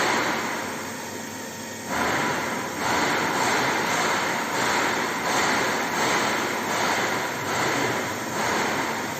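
An electric motor spins at its rated 1500 rpm with no load, giving off a loud, continuous hum with a slow, rhythmic pulsing throughout.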